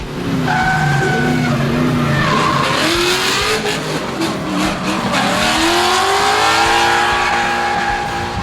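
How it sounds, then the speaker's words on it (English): Cars drifting on a tight circuit at the Carlisle Ford Nationals, close up, with loud continuous engine roar and revving throughout, plus rising tire squeal as the cars slide through the corners. "some action showcasing some brilliant drifting ability on one of the tightest drifting circuits"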